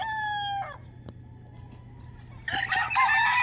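Two rooster crows on a gamefowl farm in Malvar, Batangas: one loud and close at the start, fading out within a second, then a second harmonic-rich crow rising after a quiet pause.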